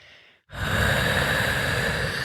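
A voice imitates slow, heavy breathing: a short quiet inhale, a pause, then a long, loud, raspy exhale close to the mic.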